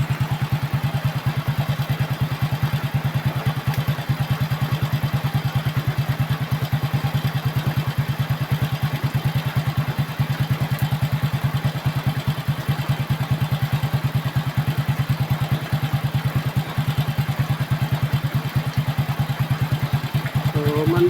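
A Honda XRM motorcycle engine idling steadily after repair, a close, even, rapid chugging pulse that holds unchanged throughout with faint clatter on top.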